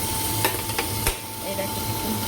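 Chicken frying in a pan while being stirred, a steady close sizzle running throughout with a few brief scraping knocks from the stirring.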